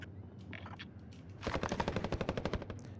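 Automatic machine gun fire in Call of Duty Warzone opens after a few faint sounds, a rapid, evenly spaced burst of loud shots lasting over a second and a half.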